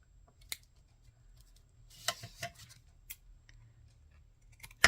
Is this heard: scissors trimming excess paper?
yes